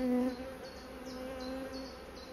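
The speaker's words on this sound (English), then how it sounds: "Look how many bees there are in there." A dense, steady hum of many honey bees buzzing close by around a hive, a low drone with faint higher flickers, no voices.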